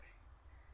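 A continuous high, shrill insect drone buzzes steadily without pause, with low rumbling background noise beneath it.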